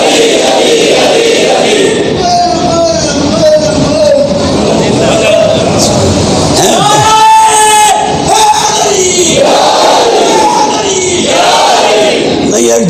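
A large crowd chants the religious slogan Naara-e-Haidari, loud and dense with voices merging into a sustained roar of yells and babble that swells and surges over about thirteen seconds.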